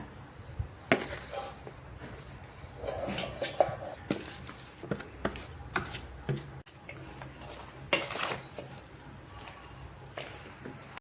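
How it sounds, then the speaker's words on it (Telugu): Pickle pieces being mixed with spices by hand, a soft squelchy rustle in irregular bursts with occasional light clinks of a container, close and fairly quiet. "ఇప్పుడు అంతా ముక్కలకు పట్టించి మంచిగా కలుపుతాం."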